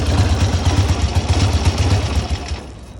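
An old Harley motorcycle with a magneto ignition chugs loudly up close in a rapid, pulsing idle, then dies away as it is shut off in the last half second.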